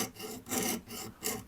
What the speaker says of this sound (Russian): непривычно по нему так очень быстро идет пилка